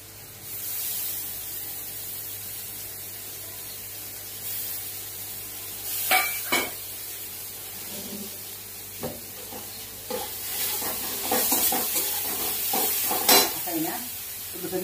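Dried sukat fish sizzles in a pan with a steady frying hiss, broken by scraping stirs and utensil clatter against the pan that grow busier toward the end.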